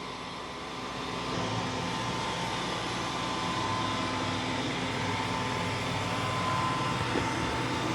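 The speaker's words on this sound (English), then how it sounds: "It is vacuuming and mopping at the same time." A Mova Z60 robot vacuum runs steadily as it vacuums and mops with its roller, giving a continuous broadband whir and hum that stays fairly even and close throughout, with no talking.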